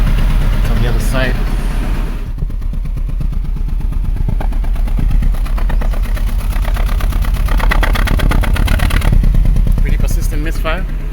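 Rough, uneven exhaust note from a 1995 Mercedes Model 210 with a misfiring, very rich-running engine, a loud steady rumble with irregular stumbling pulses, recorded close at the tailpipe.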